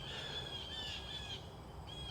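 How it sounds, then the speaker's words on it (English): Agitated birds squawk and call repeatedly in sharp, high bursts, fairly faint against a steady outdoor background, with no talk; they may be mobbing a crow or hawk. "birds are going crazy."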